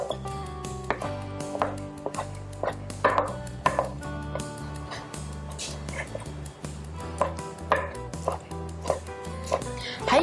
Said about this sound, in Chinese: 我们切香菇